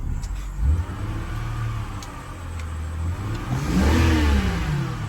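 A BMW car engine runs close by, idling with a low hum and then revving up in a couple of rising bursts before settling back.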